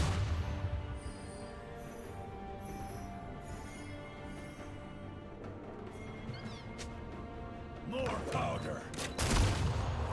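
Gangplank's cannon barrage in a League of Legends match: a rapid series of booming cannon impacts near the end, over game music and effects, with a voice speaking earlier.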